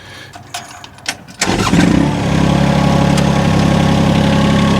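A mini excavator's engine cranks over and catches, then settles into a steady, loud diesel idle that runs without a break after a few faint knocks beforehand.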